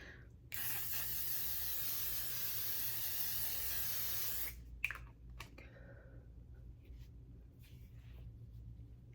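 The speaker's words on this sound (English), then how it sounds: "we're going to use our L'Oreal 36-hour spray" A L'Oreal 36-hour setting spray hisses in one long continuous burst of about four seconds at close range, followed by a few soft clicks and handling noises, then near silence.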